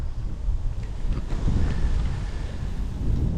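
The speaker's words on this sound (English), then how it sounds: "it's windy here." Strong wind near an estuary buffets the microphone continuously, a loud low rumbling roar that swells and dips with the gusts.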